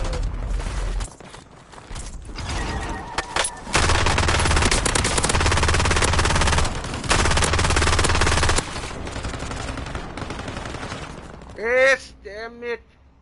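Rapid automatic gunfire in Call of Duty Warzone, with long dense bursts and scattered single shots, loud and close. Game effects are mixed in and players talk over it near the end.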